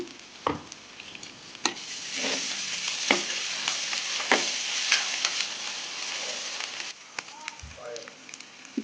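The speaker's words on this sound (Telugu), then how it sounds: "ఇప్పుడు ఆనియన్స్ ఫ్రై అయ్యాయి ఒక స్పూన్ అల్లం వెల్లుల్లి పేస్ట్ వేసుకుందాం" Ginger garlic paste frying with onions in a pan for haleem, a continuous close sizzle with stirring scrapes and a few sharp clatters, quieter toward the end.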